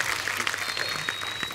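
Studio audience on a comedy talk show clapping for guests Sukhbir and Badshah, a brief, fairly quiet wash of applause with a faint tone running through it.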